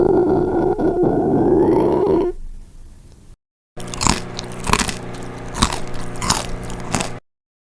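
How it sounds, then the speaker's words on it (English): A human stomach grumbles in two separate bursts: first a low, drawn-out gurgling rumble that fades, then after a short gap a louder, lumpier stretch of churning gurgles, heard up close with no talking. "grumble,"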